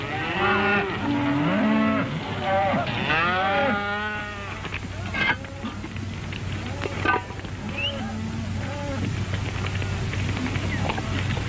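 Cattle moo loudly and close, with long drawn-out lowing calls that overlap early on, then quieter ranch background noise that carries on after them.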